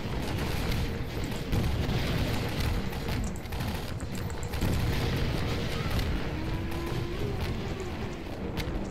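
A tower being shot down in Half-Life 2, heavy booming blasts and rumbling explosions rolling over a continuous loud barrage of fire, dense and close, with no pause throughout.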